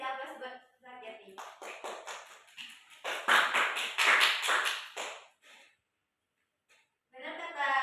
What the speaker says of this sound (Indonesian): Kasih aplaus buat Zakiati.